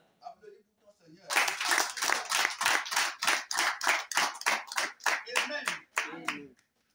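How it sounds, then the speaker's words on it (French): A church congregation claps in a steady rhythm, close and loud, a run of roughly twenty sharp handclaps over a few seconds. Brief voices come before the clapping starts. "Applaudis pour ton Seigneur."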